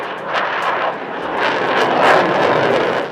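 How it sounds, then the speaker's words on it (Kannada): Surya Kiran team jet aircraft perform aerobatics at the Aero India 2025 airshow in Bengaluru, making a loud, continuous roar that swells and rumbles overhead with no voices. "ಇನ್ನು ಆಗಸದಲ್ಲಿ ಯುದ್ಧ ವಿಮಾನಗಳು ಸೂರ್ಯ ಕಿರಣ್ ತಂಡದ ಕಸರತ್ತು"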